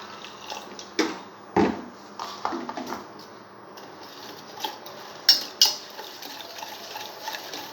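Grated jaggery is stirred into water in a bowl with a hand beater, giving a few close clinks and scrapes at intervals over a quiet background, with no talking.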